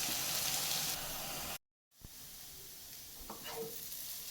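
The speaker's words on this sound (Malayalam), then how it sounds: "ഇനി നമുക്കിത് ലോ ഫ്ലെയിമിൽ വെച്ചിട്ട് നല്ലതുപോലെ ഫ്രൈ ചെയ്തെടുക്കാം" Potatoes coated in masala frying on a low flame for Kerala potato mezhukkupuratti, a soft steady sizzle interrupted by a brief dropout, then faint stirring clicks from the pan.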